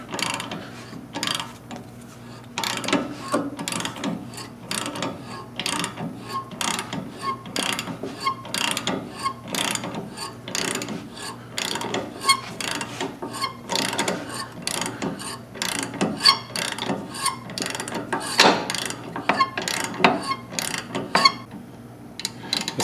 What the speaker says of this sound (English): I'm hand cranking this in here.